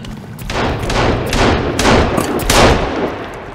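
Rapid bursts of gunfire in Sons of the Forest pound at a creature, several loud overlapping volleys in quick succession with heavy low thumps, dense and continuous for a few seconds.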